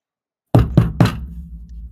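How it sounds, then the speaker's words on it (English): Three firm knocks on a door in quick, even succession, close and loud after a moment of silence, the last one trailing off into a soft ringing tail. "I'll knock on the door."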